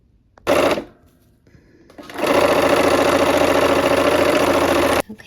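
Sewing machine stitching purple fabric into the center of a quilted sky block: a short fast burst, a pause, then a long steady whirring run of rapid stitches that stops abruptly, close and loud with no speech.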